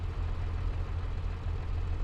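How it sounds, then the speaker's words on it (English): A tractor engine in Farming Simulator 25, hooked up to a disc harrow for cultivating a cornfield, runs at a steady low idle-like rumble, constant and close throughout with no speech. "We're going to use this tractor to cultivate our cornfield."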